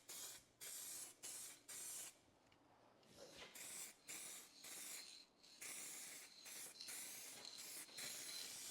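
Spray paint hisses onto a car body in repeated steady bursts separated by short pauses, close and fairly faint, with no talking.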